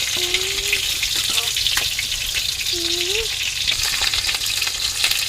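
Prawns frying in a pan, giving a constant loud sizzle with a couple of short squeaky tones and light stirring scrapes.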